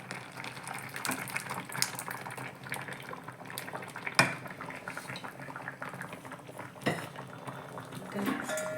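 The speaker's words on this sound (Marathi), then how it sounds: "चांगलं हलवून घ्यायचं." Dal is stirred in a cooking pot over cooked vegetables, giving wet bubbling and sloshing with a few metallic clinks of the spoon against the pot, close and moderately quiet, with no speech.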